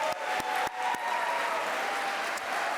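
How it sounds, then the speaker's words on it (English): Applause for the 27 contestants at a national civics bee championship, a fairly faint, steady wash of clapping from a large hall, with a few sharp close hand claps early on. "Can we have a round of applause for all 27 contestants you got up here?"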